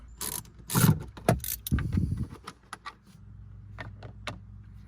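Phillips head screws are driven out of the center stack dash panel of a 2019+ Ram 1500 with a screwdriver or ratcheting driver. There are close, quick clicking and ratcheting bursts, then quieter scattered ticks.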